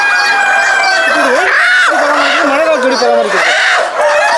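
Chickens and a rooster at a chicken farm cluck and crow loudly and continuously in a dense, close chorus of wavering calls.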